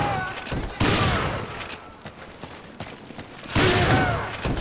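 Shotgun blasts in the Resident Evil 5 video game, two loud booming bursts about three seconds apart with a shorter crack between them, set against game ambience and occasional voices.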